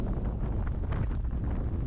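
Strong wind on Scafell mountain buffets the microphone with a loud, continuous low roar and rushing gusts.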